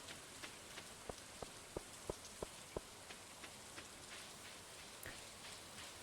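Rain in the video game Stardew Valley falls softly in the background, broken by a steady run of light, evenly spaced taps that fade out partway through, with a sharper sound at the very end.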